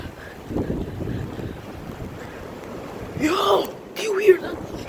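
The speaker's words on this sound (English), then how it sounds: "do you hear how strong that wind is?" Strong blizzard wind roars and buffets the microphone in loud gusts, with brief voices breaking through near the end.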